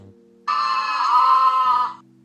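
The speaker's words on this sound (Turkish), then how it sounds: "Bu bir keçi." A single loud, drawn-out goat bleat lasting over a second, close and clear, with faint background music before and after.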